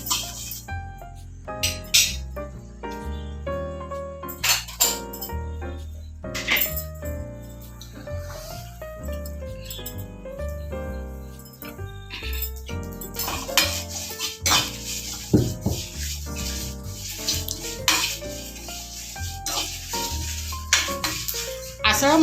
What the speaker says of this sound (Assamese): ইয়াতে মই গোটেই মছলাখিনি ঢালি দিছোঁ। এতিয়া অকণমান এইখিনি ভাজিম।